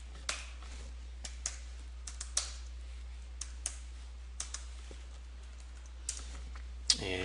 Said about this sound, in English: I'm just going to type them in